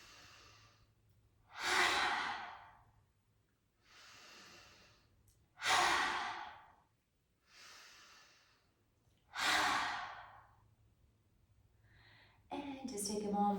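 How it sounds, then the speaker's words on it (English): Slow yoga breathing exercise, with quiet inhales alternating with three strong, audible exhalations pushed out with the tongue sticking out. A faint low hum sits under the breaths. "we're going to inhale, stick the tongue out, and let's do it 3 more times"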